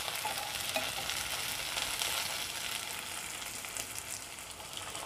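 Chopped tomato with onion and coriander sautés in a pan, giving a steady dense hiss and sizzle with faint stirring scrapes, close up and with no talking.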